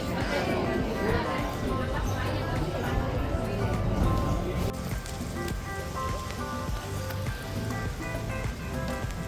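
Rain begins falling outdoors at Neelambagh Palace in Bhavnagar, a steady close patter of drops that continues throughout, with a busier, denser crackle in the first half before easing slightly.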